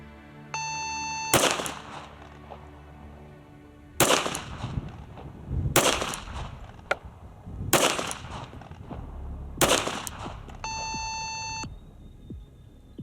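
Rapid string of pistol shots from a Tisas US Army 1911 on an outdoor range, five sharp loud reports spaced roughly two seconds apart, framed by electronic range-timer beeps at the start and end.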